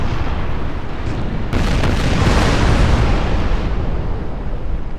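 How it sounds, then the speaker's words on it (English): Heavy naval cannon fire between sailing warships in Napoleon Total War, a loud, dense rumble of overlapping booms with a sharper blast partway through, sustained throughout. "Heavy firing going on"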